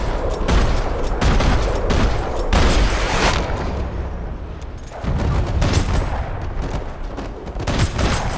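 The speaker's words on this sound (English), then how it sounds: "Another parking lot rattling with gunfire." Heavy gunfire echoes through a parking lot in the video game Max Payne 3, with dense bursts of shots and booms in clustered volleys, loud and close, briefly thinning midway before erupting again.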